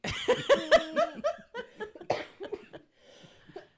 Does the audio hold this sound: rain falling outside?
no